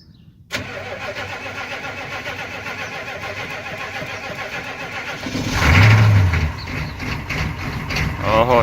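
A 1982 Chevy K20 with the 6.2 liter Detroit diesel cranks and fires on a cold start, settling into a loud clattering idle that swells briefly before evening out.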